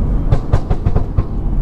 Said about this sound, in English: You can downshift now, make it pop.